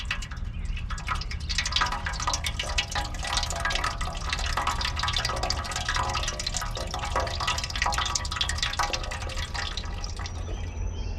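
Water runs continuously from a rain barrel, a steady close splashing and trickling stream with dripping texture, holding an even level for the whole stretch.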